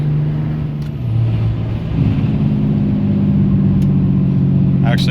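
Car engine with 4.11 gears pulling hard at full throttle, holding a steady loud drone that steps up in pitch around the two-second mark as it shifts, with spoken commentary over it.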